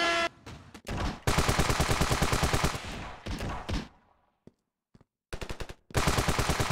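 Patriot rifle gunfire in the video game Ravenfield, loud rapid automatic bursts separated by brief pauses, with a few single shots in between and a final sustained burst.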